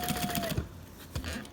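Sailrite Fabricator industrial sewing machine stitching fabric, a fast rhythmic mechanical clatter with a thin whine close by, slowing into a few separate thumps.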